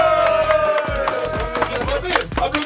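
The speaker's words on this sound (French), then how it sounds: "Applaudissez très fort" A crowd at a ham fair in France claps and cheers for a contest winner, with whoops and shouts rising over scattered clapping and music-like tonal sounds running underneath, loud and close.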